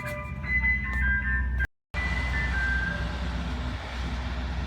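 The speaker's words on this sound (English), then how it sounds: "I listen to this guy in this ice cream truck driving around" Ice cream truck chiming its tinny melody while driving, the tune fairly loud and close over low road rumble, briefly cut by a short gap of silence before it resumes.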